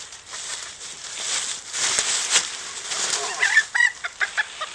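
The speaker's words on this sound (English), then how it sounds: "This is a Polish hen." A Polish breed hen clucks and squawks up close on a farm, excited bursts growing sharper and more rhythmic toward the end, with a noisy background.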